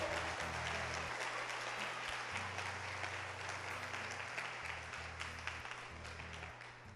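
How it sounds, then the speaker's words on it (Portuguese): A church congregation applauds during a talk on the Eucharist, a continuous wash of many hands clapping, fairly faint and distant, with a low sustained organ-like tone underneath. "pode aplaudir o Senhor"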